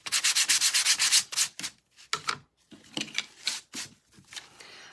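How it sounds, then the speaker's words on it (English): Light sandpaper rubbing lightly over small craft pieces for a Christmas stocking in quick, even strokes, first a steady run of scrapes, then sparser, irregular passes, close and fairly soft. "I'm just going to go ahead and just really lightly sand all these pieces"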